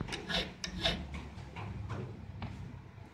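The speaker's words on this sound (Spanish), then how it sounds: "Si le hago con la lima redonda y luego emparejo los cortes con la lima triángulo." Key cuts filed by hand into a blank for a bulb-type padlock, first with a round file and then evened with a triangular file, giving close, repeated rasping strokes in an uneven rhythm with no talking.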